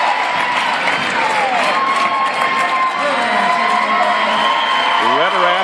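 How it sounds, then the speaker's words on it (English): Crowd at a girls' high school basketball game cheering and applauding loudly as seniors leave the floor, a continuous roar with shouts and whoops mixed in. "Mesner letting the seniors get a nice round of applause as they'll come off the floor."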